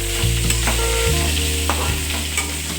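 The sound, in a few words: eggplant being stir-fried in a pan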